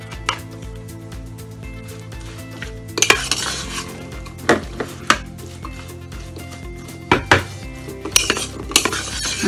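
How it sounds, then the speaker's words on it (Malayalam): A spoon scrapes and clinks against a bowl while a vegetable protein salad is mixed, giving irregular clattering strikes, some louder taps near the middle and end, over a steady low hum. "നമുക്ക് ഇത് നല്ല പോലെ മിക്സ് ചെയ്യാം."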